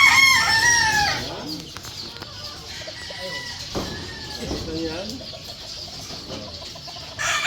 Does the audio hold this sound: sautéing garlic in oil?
no